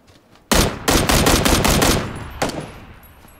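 Rapid automatic gunfire in PUBG: a loud burst of about seven closely spaced shots, followed after a short pause by one more shot fading into echo.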